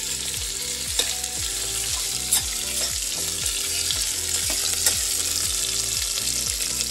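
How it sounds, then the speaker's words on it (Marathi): Ivy gourd (tondli) fries in oil in a pan with a steady, close sizzle, and a spatula stirs it in regular, repeated scraping strokes. No one speaks. "ही तोंडली ना थोडीशी तेलावर परतून घ्यायची आहे."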